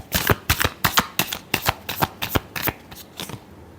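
Tarot cards shuffled in a quick riffle of about a dozen crisp, close flutters at a steady rhythm, ending in a brief quiet.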